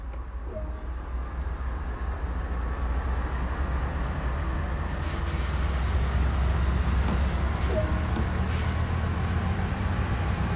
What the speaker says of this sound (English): This train is ready to go.